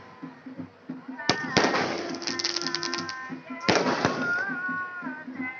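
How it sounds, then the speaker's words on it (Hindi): Fireworks burst over the Saryu river during a Durga Puja lamp-offering event, two sharp cracks followed by crackling sparkle tails, heard under ongoing talk. "और आतिशबाजी अपनी चरम सीमा पर है"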